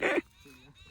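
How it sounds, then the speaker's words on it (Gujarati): Puppies give a short yapping bark at the start, followed by a softer high whimpering whine, all close by and brief. "જો ઘણા બધા ગલુડિયા હમણાં નહીં મોટા થઈને પી બહુ હેરાન કરશે"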